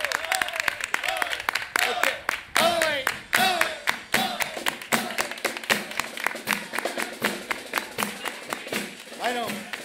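Children clap and cheer at a Burial of the Sardine carnival proclamation in Gines, Seville, with brisk ragged applause that settles into rhythmic clapping, with a voice calling over it.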